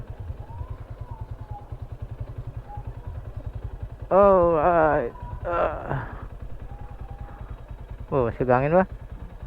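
A parked motorcycle idles nearby with a steady low putter throughout, while people talk briefly over it in a rural barangay in Sibalom, Antique.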